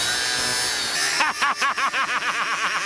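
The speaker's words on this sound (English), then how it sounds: "This is my old friend, the angle grinder, and here we go." An angle grinder bites into an ABUS Granit Super Extreme 2500 padlock: a high whine runs first, then rough grinding with a rapid, pulsing wobble takes over, close and loud.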